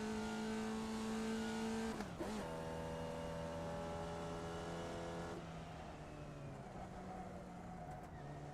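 A Formula V race car engine in a video game at Summit Point drones loudly with strong harmonic whine, dipping briefly as the driver shifts, then settling into a steady, slightly lower hum.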